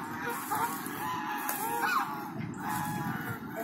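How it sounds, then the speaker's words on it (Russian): Geese honk and call repeatedly by a pond in central Moscow over a steady outdoor background, several nasal cries overlapping close by. "Вот такие гуси в центре Москвы, друзья."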